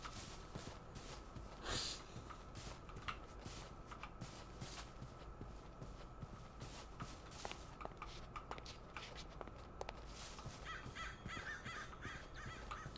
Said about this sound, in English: I wonder why you hear birds.